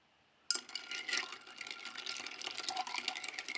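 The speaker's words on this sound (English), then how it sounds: "let's give that a stir" A tequila drink with lime is stirred in a glass, a sudden start followed by continuous close liquid swishing and light clinks, fairly quiet and with no voices.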